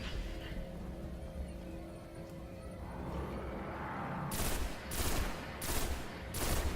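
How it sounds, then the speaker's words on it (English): A pulse rifle fires in the Destiny video game, with several rapid bursts of shots following one another at a steady rhythm over a low rumbling game background. "I like this new pulse rifle I got yesterday."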